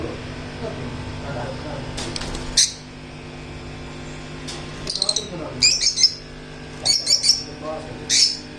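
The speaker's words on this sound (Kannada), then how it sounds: "birds African love bird" African lovebirds chirp in short sharp bursts inside a pet shop, their high squeaky calls repeating over a steady background hum and indistinct voices.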